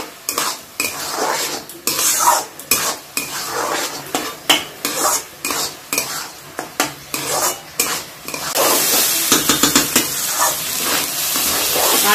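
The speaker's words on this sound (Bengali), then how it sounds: "আলুগুলো চালের সাথে ভেজে নিচ্ছি" Diced potatoes frying with rice in a pan for vegetable pulao, a busy run of scraping stirs and utensil clatter over steady sizzling that swells louder near the end.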